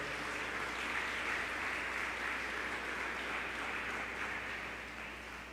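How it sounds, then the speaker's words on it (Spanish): A church congregation applauds during a worship service, a steady broadband wash of many hands clapping together at even loudness throughout, fading slightly at the end, with no voices on top. "¿Le puede dar usted un aplauso al Señor Todopoderoso?"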